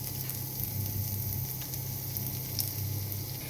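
Garlic frying in a pan as part of a home-cooked dish, a steady close sizzle and crackle with a low background hum and no talking.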